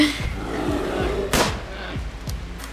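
Gunfire in a video game: a rapid series of about seven sharp, booming shots at a steady rhythm, each with a low thud, close and fairly loud.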